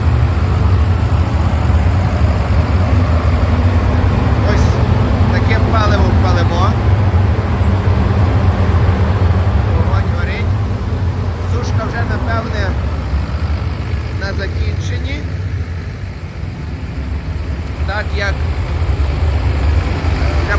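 Tractor engine running close while turning a corn dryer, a loud, steady low rumble that fills the whole stretch, with indistinct voices faintly over it.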